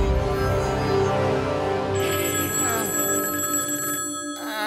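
A telephone rings with a continuous, bright electronic trill, loud and close, with a shift in tone partway through and no talking.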